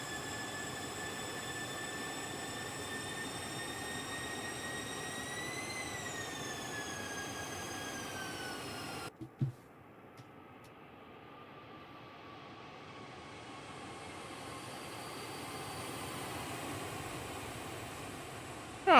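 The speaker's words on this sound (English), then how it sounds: "you can see the spoilers deploying there. And the reverse thrust" A CL650 business jet in a flight simulator game rolls out after landing, its engines droning steadily before a sharp cut and then a rising roar of reverse thrust that builds over several seconds, loud and close, with no talk.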